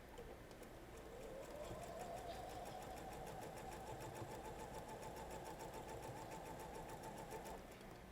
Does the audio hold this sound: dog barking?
no